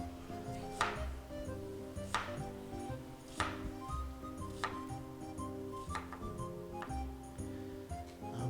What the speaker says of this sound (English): Let's cut the onions here